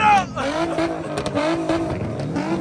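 A muscle car among Hellcats, Scat Packs and SRTs lights up its tires in a burnout, loud engine roar mixed with harsh squealing rubber, close by, with excited crowd voices over it.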